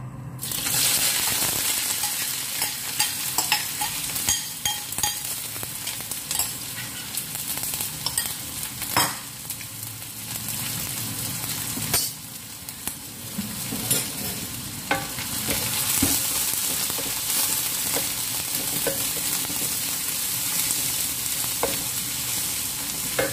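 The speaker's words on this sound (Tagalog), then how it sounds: "ay ilalagay natin itong onion" Chopped onion sizzles and crackles loudly in hot oil for a jackfruit curry, with steady frying hiss and intermittent stirring clatters throughout.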